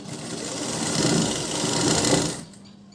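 A sewing machine stitches a blouse right along the edge, a steady close whirring run of about two and a half seconds that rises slightly, then stops abruptly.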